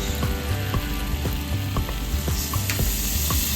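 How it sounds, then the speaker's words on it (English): Garlic and scallion fry with butter and soy sauce in a pan, giving a close, steady sizzle marked by quick, regular clicking taps. "After garlic and scallion are brown, add a little bit of butter and soy sauce."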